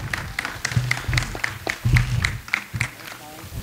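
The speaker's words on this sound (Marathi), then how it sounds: "जोरदार टाळ्या झाल्या पाहिजे." A group at a birthday celebration in a karaoke class claps in a quick, regular rhythm of sharp close beats, with voices mixed in underneath.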